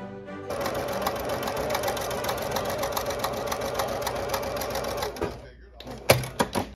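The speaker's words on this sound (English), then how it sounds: "simply stitched them through both layers of linen" A sewing machine runs steadily and close for about five seconds, stitching boning channels through two layers of linen with a fast, even mechanical whir, then stops and gives a few sharp clicks, under a talking voice.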